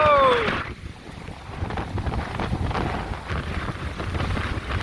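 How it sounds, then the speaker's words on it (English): Hurricane Sally driving waves to break in a canal at Dauphin Island, Alabama, with strong wind buffeting the microphone, a loud, close, continuous roar and splashing surge under gusting noise. "I got waves breaking in my canal."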